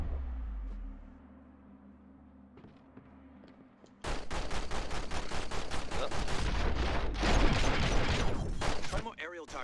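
Heavy pistol fire in The Matrix: Path of Neo on PS2, erupting after a quieter stretch into a loud, dense run of rapid gunshots and clattering impacts that carries on to the end.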